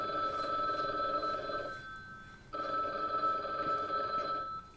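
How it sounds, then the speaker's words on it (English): A telephone rings in two long electronic bursts separated by a short pause, steady and fairly close, with no voices. "I have to make a phone call really quick."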